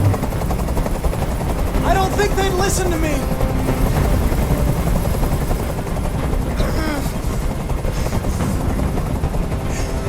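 A helicopter hovering in the video game Detroit: Become Human chops steadily and loudly throughout, with bursts of gunfire mixed in and a voice talking over it.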